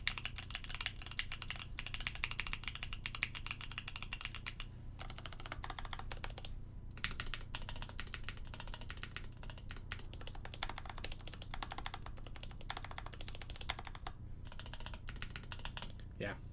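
Mechanical keyboard typing on the J-02 Prototype board, a steady stream of quick clacky keystrokes picked up close by, continuous across the whole stretch with no talking over it.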